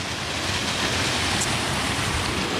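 Floodwater in a village after heavy rainfall rushes past in a steady, dense roar, an even broadband wash with no voices.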